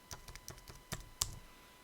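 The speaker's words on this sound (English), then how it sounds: "That doesn't want me to type." Scattered keystrokes tap on a computer keyboard, a handful of sharp, close clicks spaced irregularly over a quiet background.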